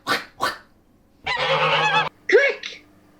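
A voice imitates a duck, giving two short quacks, then a longer drawn-out nasal quack and two more brief quacks, close and loud.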